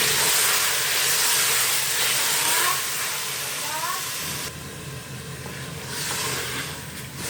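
Half a kilo of finely minced beef sizzles and hisses in a pan after garlic and ginger, a steady loud frying with stirring that eases off midway.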